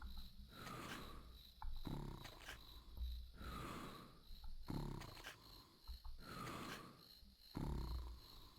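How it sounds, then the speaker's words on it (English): A bird creature in the video game Viva Piñata snores in slow, regular rasping breaths, repeating about every two seconds, faint and alone. "You ever hear a bird snore?"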